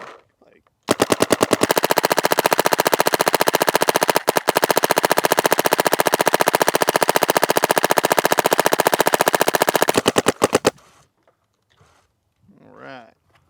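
Planet Eclipse Etha 3 paintball marker firing paint from a pod in one long, extremely rapid, loud burst of evenly spaced shots lasting about ten seconds, with a short voice heard afterward.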